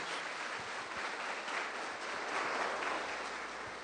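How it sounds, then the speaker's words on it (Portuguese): A church congregation claps during a Sunday worship service, a dense, steady wash of applause filling the whole few seconds with no talking over it. "dê uma salva de palmas para o Senhor Jesus"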